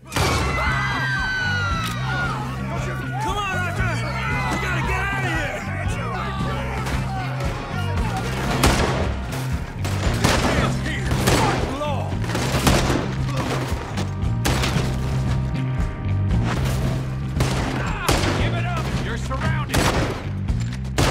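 Rapid gunfire rattles through a Red Dead Redemption 2 shootout, with dense repeated shots and sharp bangs over a continuous musical score, while voices call out intermittently throughout.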